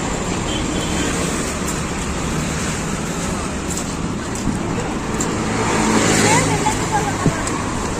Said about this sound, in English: There has been lot of traffic here.